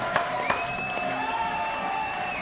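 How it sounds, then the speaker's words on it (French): A studio audience on a French live show claps and whoops briefly for a guest named Thierry, with a couple of sharp peaks and a whistle-like tone running under the crowd noise. "Applaudissements pour Thierry."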